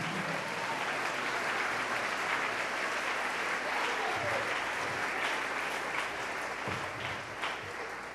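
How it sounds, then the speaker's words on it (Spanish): A church congregation applauds during a sermon, a long, even roll of clapping at moderate level that carries on steadily, with faint voices occasionally rising beneath it. "Dele ese aplauso al Señor."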